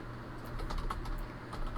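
Computer keyboard typing, a quiet, steady run of light key clicks at close range with a low background hum.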